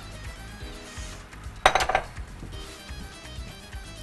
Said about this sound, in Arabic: هبدا اقلب بسباتولا